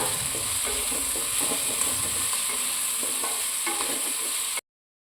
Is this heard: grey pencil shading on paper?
no